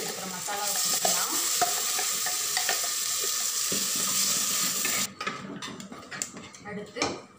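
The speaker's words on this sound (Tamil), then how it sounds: "எண்ணெயிலே கொஞ்சம் இஞ்சி பூண்டு பேஸ்ட் வந்து நல்லா அந்த பச்சை வாடை போகிற அளவு நல்லா கொஞ்சம் வதங்கிக்கணும்." Ginger garlic paste sautéing in hot oil for a village-style mutton kuzhambu, a loud continuous sizzle for several seconds that cuts off abruptly, followed by scattered clinks and stirring of a pan.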